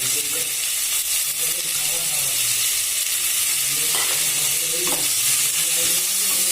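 Hog plum (amra) pieces fry loudly with salt, turmeric and Kashmiri chili powder, making a dense, steady sizzle broken by occasional scraping from stirring.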